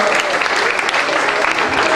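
Crowd applause greets the motorbike endurance race podium winners in Kinshasa, a loud, dense, steady clapping throughout with voices mixed in.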